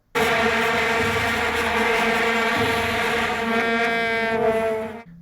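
A dense, loud droning buzz of many plastic vuvuzelas blaring together, one continuous wall of sound like a stadium crowd.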